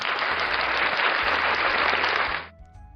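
A burst of clapping applause from a crowd, dense and loud for about two and a half seconds, then cutting off abruptly into near quiet.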